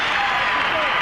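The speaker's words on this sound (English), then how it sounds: "I think the crowd is cheering here for the Bulls right now, and the Pistons as they leave the court" At a 1991 Bulls–Pistons basketball playoff game, the arena crowd gives a steady, dense roar of cheering and applause as players leave the court, loud and unbroken for a brief moment.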